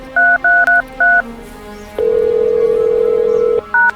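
Several short telephone keypad tones beep in quick succession, then a long steady tone sounds before more keypad beeps resume.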